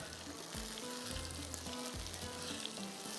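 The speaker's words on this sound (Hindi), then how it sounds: "थोड़ा स्लो फ्लेम पे कीजिएगा ताकि अच्छी तरह से ये सूजी भून जाए।" Semolina roasting in a pan over a low flame, a soft, continuous sizzle with a few light stirring strokes, faint and close.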